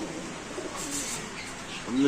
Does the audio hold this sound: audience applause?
no